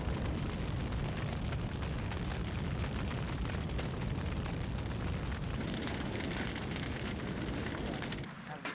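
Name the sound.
cannon firing with a big flash of flame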